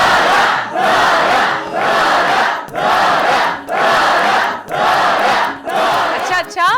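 Audience clapping and cheering in repeated loud bursts, roughly once per second, each surge of crowd noise rising and dipping in a steady rhythm, close and full.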